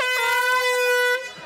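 A loud, sustained air horn blast sounds on a golf course, a single steady harmonic tone lasting about a second before cutting off, with no talking over it.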